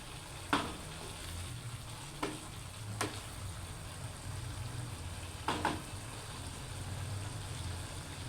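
Capsicum and cabbage frying in a pan for a mixed vegetable dish, with a low continuous sizzle and a few sharp spoon knocks against the pan as it is stirred, near and fairly quiet, with no voices.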